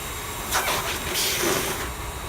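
A dog dryer blows a steady, loud rush of air at a dog, with broadband hiss swelling and dipping as the nozzle moves around her.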